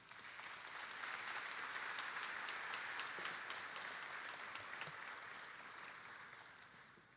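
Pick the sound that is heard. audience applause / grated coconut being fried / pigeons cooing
audience applause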